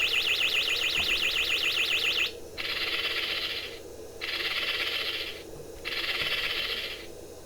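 Damert Impact Zone electronic game sounding off: a warbling electronic siren gives way to three pulsing buzzy tones, each about a second long with short gaps, fairly loud and steady, with no voices.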